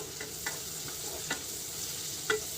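Onions and tomatoes frying in a pan are stirred, giving a steady low sizzle broken by a few short scraping clinks of the spoon, quiet and close, with no voices.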